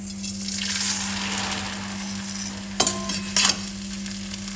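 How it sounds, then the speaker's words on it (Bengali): Vermicelli frying in ghee gives a steady sizzle, stirred with a few sharp scraping clinks of a utensil against the pan near the end; close and fairly soft, with no talking. "সেই সিমুইটাকে মা এখন ঘিয়ে ভেজে রাখছে"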